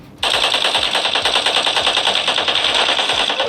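Rapid automatic gunfire in a mobile shooter game, played on a realme 12 Pro+ 5G phone, bursts in loud and continues as a dense, unbroken rattle of shots.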